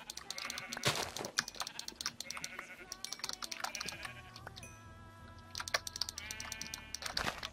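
Sheep in a video game let out repeated bleats over rapid computer keyboard and mouse clicking, the cries coming in several short bursts amid the steady tapping.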